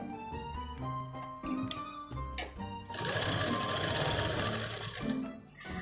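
An electric sewing machine stitching a kurti while it is refitted, first soft ticks and clicks, then a loud, fast, steady mechanical whir of stitching for about two seconds, close by.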